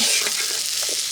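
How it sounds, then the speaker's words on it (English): Red peppers and shallots frying in butter on a camp stove inside a canvas hot tent in a Michigan late winter, giving a steady close sizzle with light stirring noises throughout. "We've got red peppers and shallots cooking"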